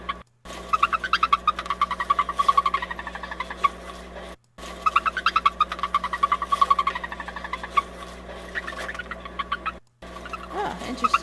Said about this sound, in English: they've got the singing mouse in quotes on here